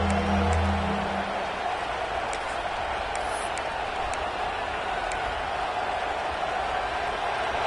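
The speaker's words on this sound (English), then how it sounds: "The crowd elevating its energy, willing this defense to get a stop on this big third down." A video game stadium crowd in Madden 26 roars steadily before a big third-down defensive play, a dense, even wash of cheering that holds for the whole stretch.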